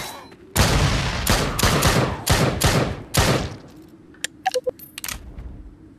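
Rapid bursts of gunfire in the zombie shooter game Drop Dead Dual Strike, several loud close shots in quick succession followed by sparse clicks and small metallic impacts.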